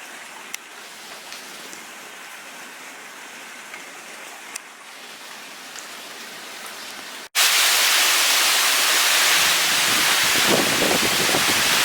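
Hurricane Hanna's wind and rain in Houston: a soft patter with scattered drops at first, then a sudden loud, dense roar of driving rain and gusting wind that holds steady to the end.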